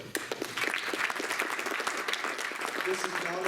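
A short burst of sustained audience clapping rises in a conference hall during a session on whistleblowers at the Play the Game 2019 sports gathering, loud and even throughout.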